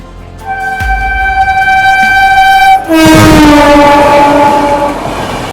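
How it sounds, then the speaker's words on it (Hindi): Loud, sustained multi-tone horn from the Gatimaan Express as it passes and overtakes the Jhelum Express, the pitch dropping partway through as the train goes by, over rumbling rail and wheel noise close at hand. "अभी अपनी झेलम एक्सप्रेस को यहाँ पे ओवरटेक करने के लिए आ रही है इंडिया की सबसे फास्टेस्ट ट्रेन गतिमान एक्सप्रेस"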